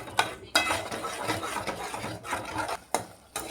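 Salt being stirred into prawn curry gravy in a pan, a spoon scraping and knocking with several sharp clacks against the pan among softer continuous stirring, close by, with no talk.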